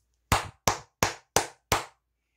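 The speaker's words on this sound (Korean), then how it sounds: "미국 투자를 확정 지은 만큼 박수를 한번 치고 가도록 하겠습니다." Five sharp, evenly spaced hand claps ring out alone in a quiet room, each crisp and close with a short decay, about a third of a second apart.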